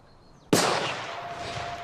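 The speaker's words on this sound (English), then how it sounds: "you heard the gunshots" A single sudden loud blast from a gunshot in the film Children of Men, sharp attack followed by a long ringing, echoing decay with a faint tone underneath.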